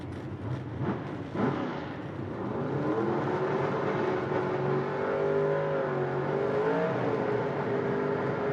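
A gasser-class drag race car at Shadyside Dragway with a mechanically fuel-injected engine roars off the line, its loud engine climbing in pitch and holding a steady howl as it pulls down the track, with no talk over it.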